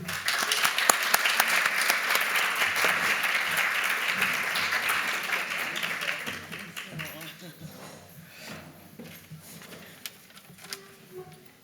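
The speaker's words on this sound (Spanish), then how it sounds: "Recibamos con un gran aplauso a nuestra oradora Irini Chatsikumi" An audience at an academic event bursts into sustained applause to welcome a speaker, dense clapping that thins out and fades after about six seconds into scattered claps and room noise.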